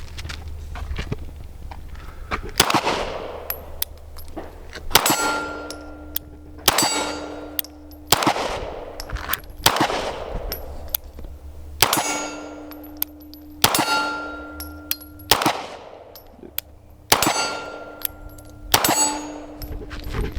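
Springfield Hellcat Pro pistol fired at steel targets on an outdoor range: about nine sharp shots at slow, uneven intervals, each followed by a ringing metallic clang that decays over a couple of seconds.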